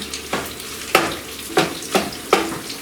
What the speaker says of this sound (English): So this is getting brown. Just moving it around a little bit.